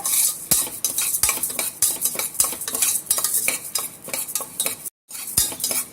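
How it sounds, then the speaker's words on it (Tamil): Half a cup of moong dal roasting in ghee in a pan, stirred briskly with a metal spoon that clinks and scrapes in a quick, close, busy rhythm over a light sizzle, briefly cutting out near the end. "ஒரு அரை கப் வந்து பாசிப்பருப்பு இது வந்து ஒரு ஐம்பது கிராம் பருப்பு வந்து நல்ல வாசனை வர வரைக்கும் வறுத்துக்கோங்க"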